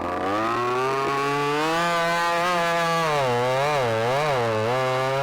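A ported, piped Stihl chainsaw sawing through firewood, its engine screaming loud and close at high revs, the pitch wavering and dipping as the bar bites deeper into the log.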